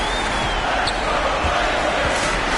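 Steady roar of a basketball arena crowd in a basketball video game, a dense continuous wash of cheering with faint ball bounces underneath, no speech.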